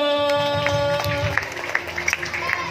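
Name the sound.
children clapping hands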